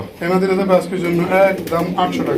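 Golla pigeons coo in a series of soft, close, rolling calls with short pauses between them.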